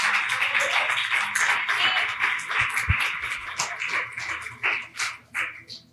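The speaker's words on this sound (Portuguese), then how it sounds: "Aplaude ao Senhor." Congregation clapping during a family worship service in a Brazilian evangelical church, a broad steady wash of hand claps for several seconds that thins into scattered claps near the end, with a few low thumps mixed in.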